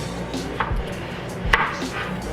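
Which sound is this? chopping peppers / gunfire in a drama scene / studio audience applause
chopping peppers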